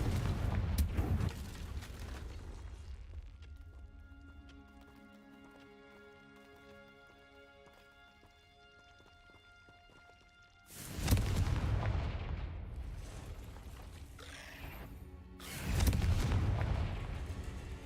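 Spell explosions from Confringo and Bombarda in Hogwarts Legacy burst out as two loud, booming blasts with a lingering rumble, following a quiet stretch of soft ambient tones.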